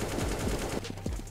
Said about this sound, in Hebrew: יריות, אבל שומעים מעולה